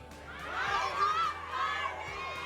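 Fans at a live movie-promotion event in an SM North EDSA mall shout and cheer together, a sustained crowd roar with excited high-pitched cries rising and falling in waves.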